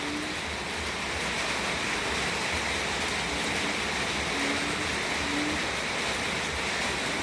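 Steady, unbroken rain falls over a garden orchard after a night-long downpour, a dense even hiss that stays constant throughout with no voices.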